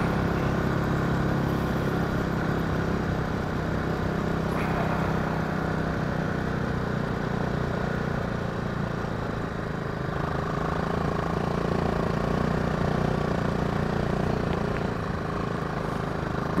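A 2023 BMW G310GS motorcycle ridden across soft beach sand, its single engine droning steadily and fairly loud for the whole stretch, mixed with a constant rushing wind-like noise.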